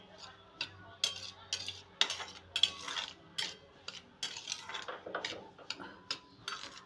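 Semolina roasting in ghee in a pan gets stirred with a metal spoon, giving irregular close scraping and clinking taps against the pan over a faint background, with no one talking.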